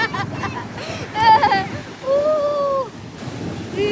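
Sea waves surge up the beach at Cox's Bazar under rainy, windy weather, a close washing rush of water mixed with wind while people talk and call out over it.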